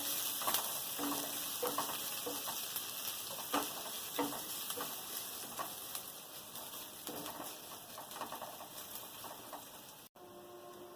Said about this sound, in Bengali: আমি একটা পেঁয়াজ কেটে রেখেছিলাম, সেটা দিয়ে দেবো।